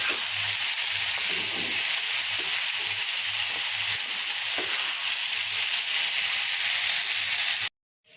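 Taro (kochu) frying in a pan, a continuous close sizzle with faint stirring scrapes underneath, running steadily for several seconds before cutting off abruptly.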